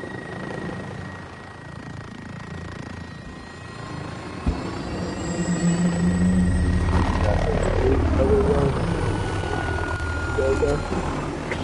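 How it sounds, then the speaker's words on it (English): Helicopters flying overhead in Call of Duty Modern Warfare, a loud steady rotor and engine roar that swells and thickens in the second half, with a sharp thump partway through and a player's voice talking over it. "These helicopters are freaking so loud."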